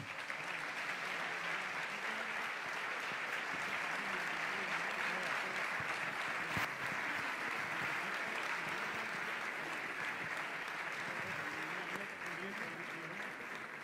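Sustained, even applause from a seated audience at a sports award gala in Béjar, steady and full for the whole stretch, with faint voices beneath it.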